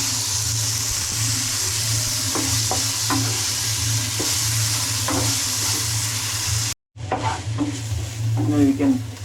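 Tomato frying and being stirred in a pan for kothu parotta, a steady loud sizzle with repeated scraping stirs and a brief silent break before the frying resumes.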